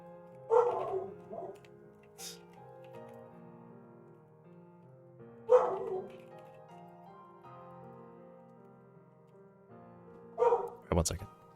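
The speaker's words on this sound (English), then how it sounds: "Dog is barking." A dog barks in three short bursts spaced about five seconds apart, moderately close, each with a brief yip-like edge, over a steady low hum and background tones.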